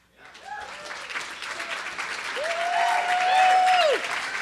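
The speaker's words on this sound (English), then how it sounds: "Can I have a louder cheer than that?" A FailCon 2013 conference audience cheering and applauding, clapping building louder over several seconds while voices whoop and shout on top.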